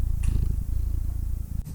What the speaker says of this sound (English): That's my cat purring.